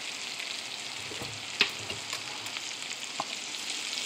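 Salmon sizzles and spits in butter in a hot pan, a steady broad frying hiss with small crackles and one sharp pop, close and alone, for a lemon garlic salmon dish.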